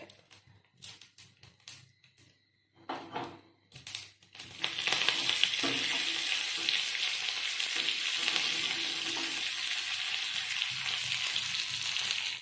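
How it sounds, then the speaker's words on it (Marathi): Mustard seeds splutter and crackle in hot oil, then curry leaves drop in and set off a loud, steady sizzle for beetroot gojju; a few sparse pops come first, after which a dense frying hiss carries on to the end. "ससम पटपट येतरी करबेव घालचें"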